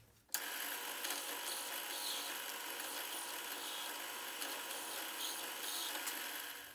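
Steady, close, continuous whirring hiss of a 17/64 drill bit boring a countersink for screw heads, starting abruptly and running evenly for about six seconds with no talk.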